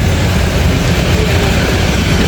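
An articulated Transjakarta bus pulls in at a Corridor 2 platform (Monas–Pulogadung busway) with a steady, loud low rumble and rolling road noise, close by, with no talking.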